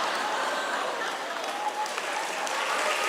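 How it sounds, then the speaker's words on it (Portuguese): Audience applause at a conference, steady dense clapping filling the room for a few seconds. "Não sei por que você aplaudiu isso"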